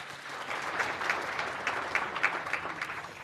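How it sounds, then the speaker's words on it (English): A crowd at an awards ceremony applauds the event sponsors, a steady wash of clapping from many hands, fairly distant and soft throughout with no voices on top. "please, a round of applause to them for making this event possible"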